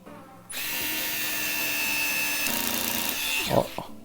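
A Bosch GO3 electric screwdriver tightens a screw into a plastic screw hole at its lowest torque setting. It gives one steady, fairly loud motor whir lasting about three seconds, then a brief ratcheting clatter as the clutch slips at the end.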